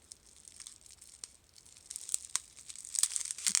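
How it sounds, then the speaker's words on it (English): Packing tape being peeled off a parcel and torn, crackling and ripping in uneven bursts that grow louder and more frequent toward the end. "The tape does not want to let go."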